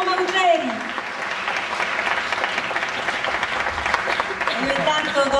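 Sustained applause from an audience at a national literary award ceremony in Italy, steady clapping filling the room for several seconds with crowd murmur and voices underneath.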